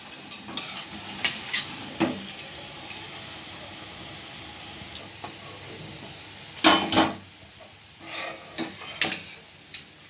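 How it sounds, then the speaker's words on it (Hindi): Fresh green-pea snacks coated in bread frying in hot oil, a low continuous sizzle with occasional louder bursts of bubbling and stirring scrapes, close by with no voices. "अब बचे हुए सारे नाश्ते को डाल देते हैं इसके अंदर। और फ्राई कर लेते हैं।"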